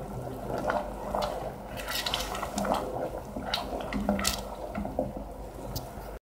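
Plum and armagnac digestif mixture boiling in a pot on the stove while stirred, a continuous soft bubbling with wet pops and drips, close and moderately quiet.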